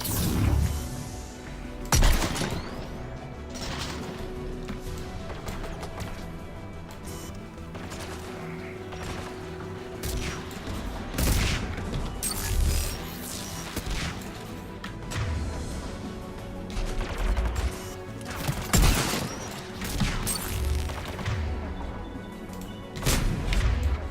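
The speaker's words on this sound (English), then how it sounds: "Sniper rifle." Sniper rifle gunfire in a shooter game: sharp, loud single cracks ring out at irregular intervals among heavier booms and ongoing battle noise across the whole stretch.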